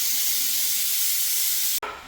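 A pressure cooker cooking kheer gives off a loud, steady hiss of escaping steam, broad and continuous, that cuts off abruptly near the end before a quieter hiss resumes.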